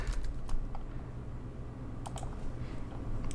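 A computer keyboard is typed on in short, uneven bursts of light clicking keystrokes, fairly close and clear against a quiet background hum.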